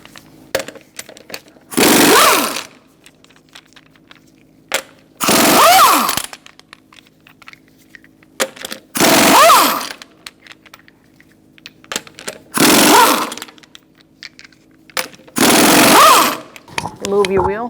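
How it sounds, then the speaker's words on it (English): An impact wrench with a 21mm socket removes the lug nuts from a 2005-2010 Chrysler 300 wheel in five loud, close rattling bursts, each about a second long, separated by quiet gaps. "Using a 21mm socket, we're going to remove our lug nuts."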